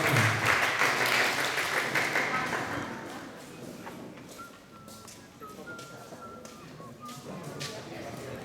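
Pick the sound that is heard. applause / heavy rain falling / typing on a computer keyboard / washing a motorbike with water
applause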